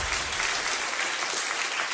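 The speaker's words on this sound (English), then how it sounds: "with a round of applause" A brief burst of audience clapping, dense and steady, from a crowd at a Baldur's Gate 3 showcase panel.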